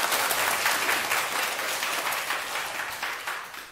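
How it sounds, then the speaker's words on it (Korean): Listeners at a lecture hall talk session give a round of applause: a broad wash of many hands clapping together, loud at first and then gradually fading, with no voices heard over it. "박수 한번 부탁드립니다"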